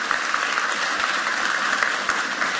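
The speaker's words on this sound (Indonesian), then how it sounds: "tepuk tangan buat Dr. Cindy" A studio audience at an Indonesian health talk show bursts into dense, steady applause for a guest doctor, loud and unbroken with no voices for the whole stretch.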